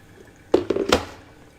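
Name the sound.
pouring the last 100 ml of water over coffee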